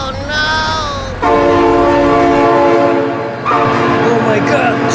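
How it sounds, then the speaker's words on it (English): A train sounds its horn in long, loud, sustained blasts, with a brief change in pitch partway through, while excited voices shout over it. "Oh my god, train!"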